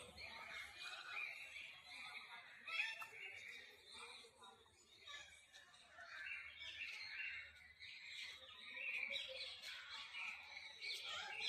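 Partridges and other birds in the aviary of Kanpur Zoo give a steady, overlapping mix of squawks and chirps, moderately near, with a continuous busy bird background throughout.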